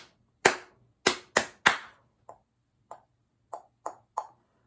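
A hand-clapped rhythm pattern: four loud, sharp claps in a ta-ta-ti-ti-ta shape, followed by a softer echoing run of claps in the same rhythm. The claps are close, crisp and alone, with no voices.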